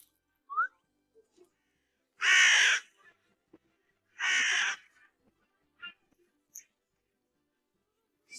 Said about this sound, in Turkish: Karga ağaca kondu.